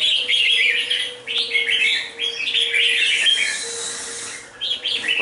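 A red-whiskered bulbul, a wild-caught bird kept for song contests, sings close and loud in repeated bright chirping phrases with brief pauses between bursts, alone without talk.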